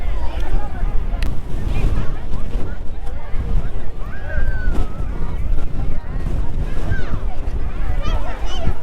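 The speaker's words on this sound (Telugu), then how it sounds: "గాలి ఎంత గట్టిగా వేస్తుందంటే మామ మనిషిని తోసేంతలా వేస్తుంది." Strong gusting wind buffets the microphone outdoors at the Adiyogi statue grounds, a loud continuous roar with rumbling bursts, and someone talks over it.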